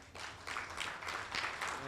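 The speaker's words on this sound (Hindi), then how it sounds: "एक बार पूरे रूम के लिए ना जोरदार ताली बजा दो यार।" A conference room audience at a capital market event breaks into applause, a thick, continuous patter of many hands clapping at steady volume for a couple of seconds.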